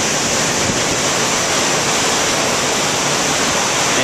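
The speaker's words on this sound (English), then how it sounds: "It's just us and the waves." Ocean waves churn behind the stern of a cruise ship far from land, a loud, continuous rushing wash with no breaks and no voices.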